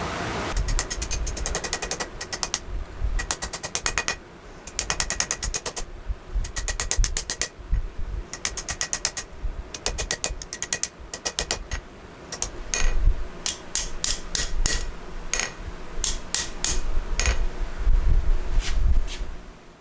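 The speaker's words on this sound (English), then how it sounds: "Now I just need to cut that little section off there, finish forging it." A blacksmith cuts a small section off a hand-forged knife blank, giving repeated sharp metallic strikes in bursts with pauses, close and fairly loud, and no talk.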